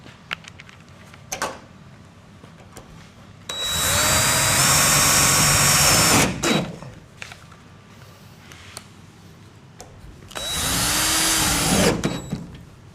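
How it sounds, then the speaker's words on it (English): Power drill driving screws into a metal roof for solar panel brackets, two loud whirring bursts of a few seconds each, separated by quieter handling clicks and knocks nearby. "Install the rest of those screws."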